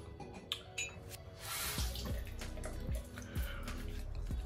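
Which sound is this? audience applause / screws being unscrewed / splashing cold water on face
splashing cold water on face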